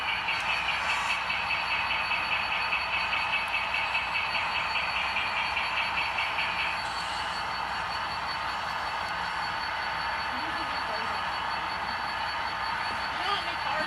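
A long CSX model train of about 54 cars runs around a layout, giving a steady rolling rumble with a light rhythmic clicking at first, then a smoother continuous hum.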